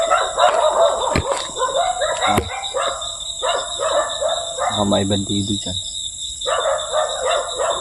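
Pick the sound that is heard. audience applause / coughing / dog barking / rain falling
dog barking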